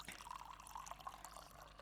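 Coffee pouring into a cup in Coffee Shop Simulator, a steady quiet trickle of liquid with faint drip-like glints, heard alone and at low level.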